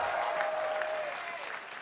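A convention crowd at PAX, during a League of Championship Series playoff interview, claps in a dense, sustained burst of applause that stays level and slowly eases, with a faint voice underneath.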